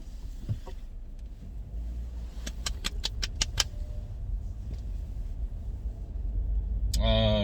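Car driving, heard from inside the cabin: a steady low road and engine rumble runs throughout, with a burst of bright clicks partway through and a louder rise near the end; people talk over it.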